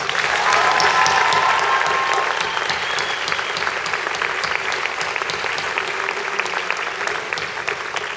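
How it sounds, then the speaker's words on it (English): A school band concert audience claps steadily for several seconds. The sound is loud, dense and continuous, with a few cheers near the start, and it thins only slightly toward the end. "Let's give them just one more round of applause."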